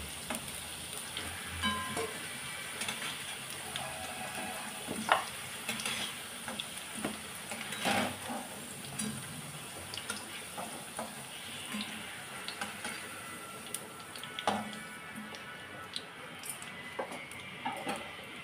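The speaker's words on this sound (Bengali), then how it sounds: "আলুগুলো ভাজা হয়ে গেছে," Potatoes frying in a pan with a little salt, a soft continuous sizzle with scattered light clinks and scraping from utensils against the pan, heard at moderate level without talk.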